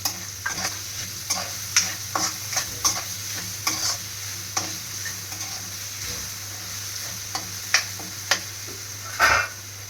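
Sabudana khichdi fries with a steady low sizzle in a pan as a spatula taps and scrapes in a loose, repeated rhythm, close up and without talk.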